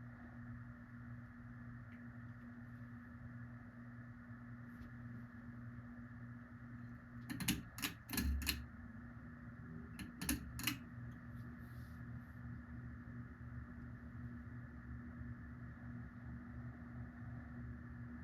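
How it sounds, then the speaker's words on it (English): Encon Petite ceiling fan motor running without its blades, a steady low electrical hum with a faint whirr throughout, broken briefly by a few sharp clicks and knocks near the middle. "I'll also be showing motor running without the blades, just so you can see how it runs."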